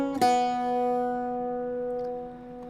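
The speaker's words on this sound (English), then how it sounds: "The first group of 3 is going to sound like this." A single crisp plucked note on an Irish bouzouki's open string rings out close and clear, sustaining steadily with a faint second touch near the end.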